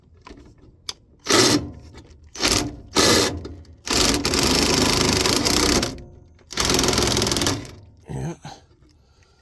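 A power screwdriver driving screws to mount a new furnace transformer, several short whirring bursts followed by two longer runs, loud and close, with a brief spoken word between.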